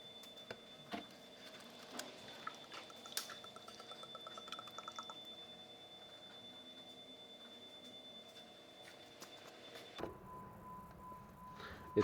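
Transmission fluid being poured into a 2009 Chrysler Town and Country trickles quietly and steadily with faint drips and small knocks, close, ending in a brief clunk.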